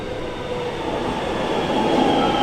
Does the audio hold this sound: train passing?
yes